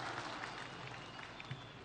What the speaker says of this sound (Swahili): Wapi makofi ya mama Prime Minister wa kutoka Mozambique jameni.